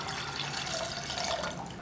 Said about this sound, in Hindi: कुकर पे मैं डाल दूंगी भिगो के रखी हुई दाल, और इसमें मैं डालूंगी करीब 2 ग्लास पानी।